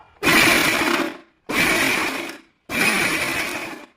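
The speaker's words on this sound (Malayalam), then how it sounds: "നമ്മൾ മിക്സിയിൽ ഫ്രണ്ടിലേക്കല്ല റിവേഴ്സ് വേണം ചെയ്യാൻ കേട്ടോ" A mixer grinder running in reverse whirs loudly in three short bursts of about a second each, separated by brief silences, with no voices.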